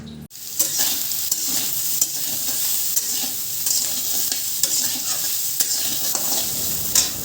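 Mustard oil heats in a kadhai, crackling and sizzling in a dense, continuous hiss with small pops throughout, close and fairly loud, no voices.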